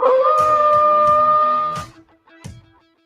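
A drawn-out canine-style howl sound effect rises and holds, loud and close, then tails off into a short yelp-like echo before fading, with no voices over it.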